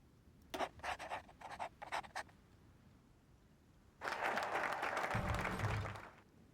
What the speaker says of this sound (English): A round of applause and a cheer goes up for Nicossantori.